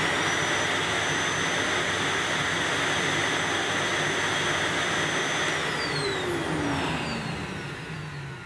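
A new Dyson DC05 Plus Turbo vacuum cleaner runs with a steady high-pitched whine and airy roar, close up, its pitch dipping slightly toward the end as it winds down.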